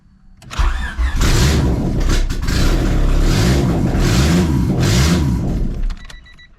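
A Honda Civic with an LS-VTEC engine swap, running with no header fitted, cranks briefly and then catches, settling into a loud, raw, rumbling idle with uneven pulses before cutting off.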